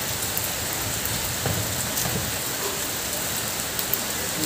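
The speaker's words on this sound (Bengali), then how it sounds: "বৃষ্টি আর বৃষ্টি, বৃষ্টি শুরু হয়ে গেছে আর কিছু করার নেই" Steady rain pours down on open fields at a rural home in Bengal, a dense, even hiss of drops on surfaces with scattered louder patters and no voices.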